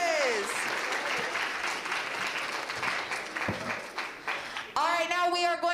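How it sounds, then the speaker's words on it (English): Applause for high school coaches at a secondary school geography bee, steady clapping from the audience throughout, with voices and cheers rising near the end. "round of applause for our high school coaches"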